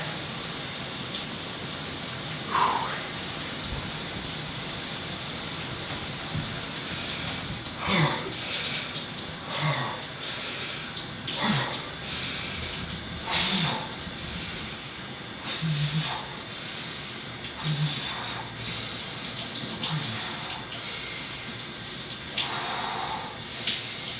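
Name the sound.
shower running water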